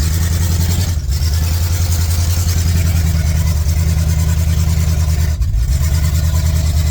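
A 1982 C10 pickup truck engine runs loud and close in a steady, throbbing low rumble, with two brief dips in its drone as the truck is put into gear and strains to move.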